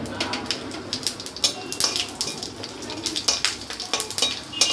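Panch phoron, bay leaf and dried chilli sizzling in a little oil in a wok, a close, steady crackle punctuated by sharp pops and spatters throughout, with faint background sounds.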